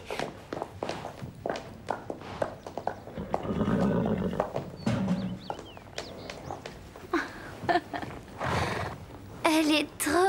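Horse whinnying loudly with close hoofbeats clip-clopping on the ground, mixed with people talking in a lively outdoor scene.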